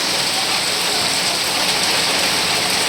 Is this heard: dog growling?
no